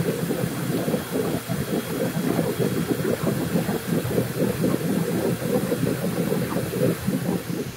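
An air blower runs steadily to clear the lines of an aboveground pool for winter, giving a loud, constant whirring roar with a hissy rushing layer and no pauses.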